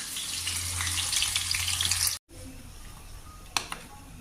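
Biscuits frying in a pan on a gas stove, a dense hissing sizzle that cuts out abruptly midway, then returns faintly with a couple of clinks and light background movement.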